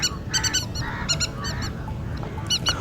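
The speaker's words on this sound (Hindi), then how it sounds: "आपको एम्बियंस में टिटैया की आवाज़ भी सुनाई पड़ रही होगी।" Harsh, repeated honking bird calls in short bursts, moderately near, over a constant open-air wash on the Ganges plain; the loud staccato calls fit a red-wattled lapwing.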